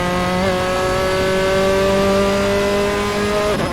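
A race car engine in Assetto Corsa at Oulton Park holds a steady high whine under acceleration, with a brief dip near the start and a sharp drop at the end, loud and close with no voices.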